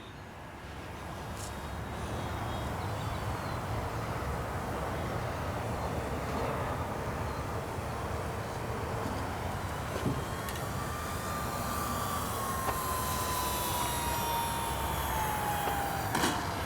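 An FMS Cessna 182 radio-controlled model airplane drones steadily through a go-around, a continuous near-constant motor whine with a slow pitch glide toward the end, heard outdoors without talk.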